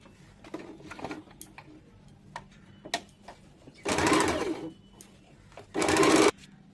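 A sewing machine stitches baby frock fabric in two short, loud bursts, each under a second, separated by quiet clicks and handling of the cloth.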